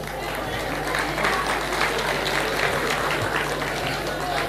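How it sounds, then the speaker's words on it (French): A television studio audience applauds Cameroonian youth on a CRTV set, steady dense clapping filling the room throughout with crowd noise mixed in. "Applaudissez pour la jeunesse camerounaise"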